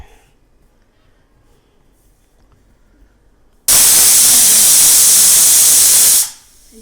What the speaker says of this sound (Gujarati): જો એક સીટી વાગી જઈ છે